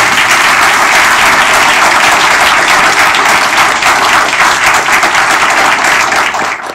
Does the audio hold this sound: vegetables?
no